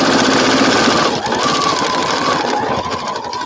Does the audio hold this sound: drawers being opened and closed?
no